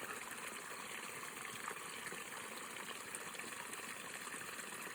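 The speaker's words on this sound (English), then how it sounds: "the trickling of the brook" A trickling brook gives a faint, steady wash of running water, continuous and even with no voices or other sounds.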